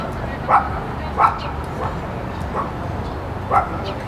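Several short barks from a dog at a busy Oktoberfest gathering in Leavenworth, Washington, spaced irregularly over a steady crowd murmur.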